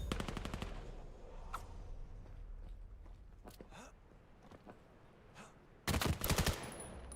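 Rapid automatic gunfire from a competitive VR shooter match, several loud bursts of quick shots at the start and a dense volley near the end, with scattered single shots and faint clicks and footsteps between.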